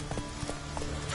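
Hooves clip-clopping on the ground as a horse gallops in The Witcher 3, a few quick soft thuds in a brief, faint rhythmic run.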